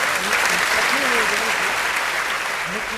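Dense, steady applause from a large crowd with voices calling out over it, filling the whole stretch.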